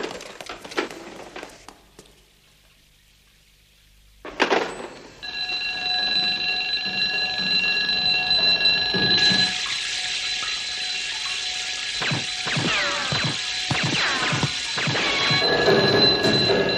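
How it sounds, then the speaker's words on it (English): An alarm bell rings loud and continuous for about twelve seconds after a sharp thump, its steady tone holding on without breaks. "The alarm?"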